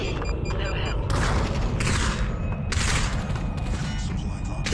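Gunfire in the VR battle royale game Population One, loud continuous bursts and booming shots in dense clusters with brief lulls, filling the whole stretch with a heavy, chaotic firefight.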